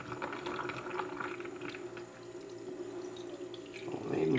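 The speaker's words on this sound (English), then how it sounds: "Pour our brine in here until it's covering all those peppers." Brine pours into a jar packed with peppers for fermenting, a steady splashing, gurgling flow close up that grows fuller toward the end.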